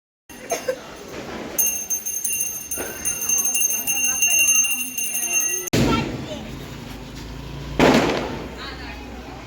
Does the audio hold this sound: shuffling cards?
no